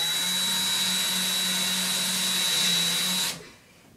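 A power screwdriver drives screws into a skateboard-wheel coat or hat rack, giving one steady, close, loud motor whine that runs for about three seconds and then cuts off sharply, leaving near silence.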